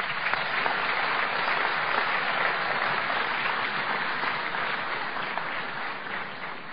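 A hall full of guests claps in welcome at a formal dinner reception in Melbourne, sustained dense applause that stays loud throughout and eases slightly toward the end.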